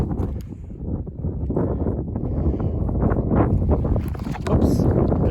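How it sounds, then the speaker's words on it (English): Strong wind buffets the microphone on an exposed desert hilltop at an archaeological site, a continuous loud low rumble with gusting surges and no pauses. "It is windy up here, certainly."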